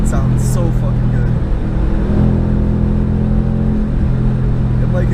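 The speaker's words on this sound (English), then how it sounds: "this is my first day actually getting on the highway and actually going fast with my new exhaust" Car fitted with a race exhaust accelerating at speed on a highway, a steady loud engine drone with low tonal rumble and road noise throughout, pitch shifting slightly as it pulls.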